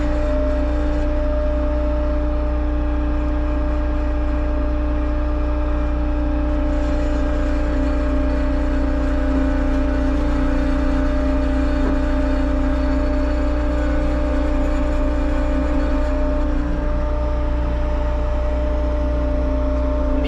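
A Bobcat skid steer's engine runs steadily while grading an overgrown lakeside property, a constant close drone with a low hum and no break.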